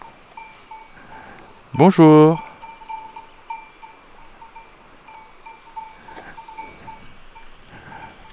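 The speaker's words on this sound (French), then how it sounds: "Quelques vaches" Cows wander a pleasant trail along a lake in the Néouvielle park on the GR10, their bells clinking faintly and steadily. One cow gives a single loud moo nearby, and a person briefly calls out a greeting.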